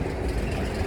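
A train rumbles past on a street in Yuen Long, Hong Kong, a brief, steady, low roar of rail noise heard nearby with no talk.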